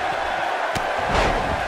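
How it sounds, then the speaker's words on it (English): A wrestling arena crowd cheering and roaring, a broad steady wash of voices with a sharp slam-like hit partway through and a swelling surge of noise near the end. "crowd coming alive for Aztec Kaiser Neo"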